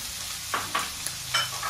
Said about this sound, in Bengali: গাজরগুলো এক প্লেট ভাজার পর দিয়ে দিচ্ছি মাশরুম হাফ কাপ, দিয়ে দিচ্ছি ক্যাপসিকাম